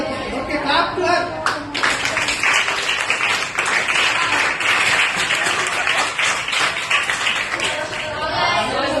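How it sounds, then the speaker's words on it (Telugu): Students at a high school clap together in a dense round of applause that lasts the whole stretch, with chatter and scattered voices mixed in. "Okay clap to her."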